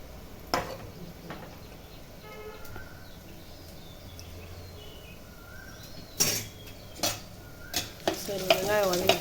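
Onions frying in a pan for fish curry, a low, steady sizzle broken by sharp scrapes and clinks of a spoon stirring, growing busier toward the end.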